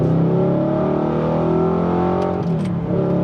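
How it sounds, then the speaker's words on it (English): An Audi R8 fitted with a titanium exhaust revs hard and holds a loud, droning, steady engine note close by, with a brief rougher flutter near the end and no talk. "once you hit the limiter, you do get a couple of burbles, and even when you let off, you can hear the odd pop and bang"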